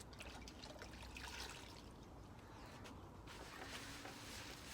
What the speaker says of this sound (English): And then I'm going to get this sponge wet.